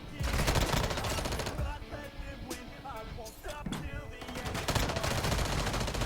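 Gunfire from Call of Duty: Warzone Mobile rattles through the whole stretch as dense bursts of shots layered over game music and effects, loudest at the start and end, with a voice speaking briefly.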